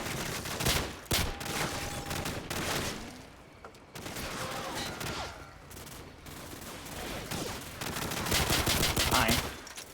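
Dense gunfire from the Call of Duty 4 campaign, with bursts of rapid automatic fire and scattered single shots across a loud, busy battle soundscape that never lets up.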